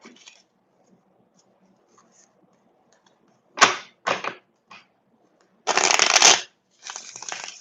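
Tarot cards being shuffled in several brisk riffles, sharp fluttering bursts separated by quiet pauses, close and clear.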